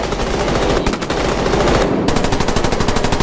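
Automatic gunfire in the Roblox game Deadline pours out in loud, rapid, unbroken bursts at close range, with a short pause just after the first second before the firing resumes.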